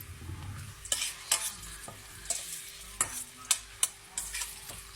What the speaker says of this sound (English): I'm just adding in my sliced onion, and then I'm just going to mix that in